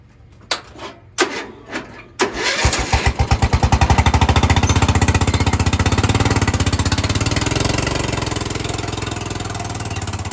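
A homemade mud mower's small engine sputters to life after a cold start, with the choke still hooked up, then settles into a loud, steady, rapid idle that carries on alone.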